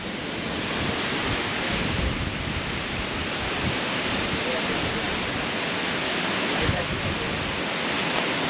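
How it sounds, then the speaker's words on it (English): Babinda waterfall at the Babinda Boulders in Queensland, a loud, constant broadband rush of falling water with wind buffeting the microphone, steady and unbroken throughout. "magnificent waterfall."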